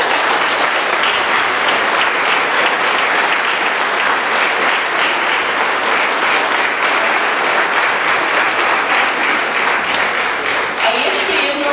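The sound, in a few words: audience applause for the small children on stage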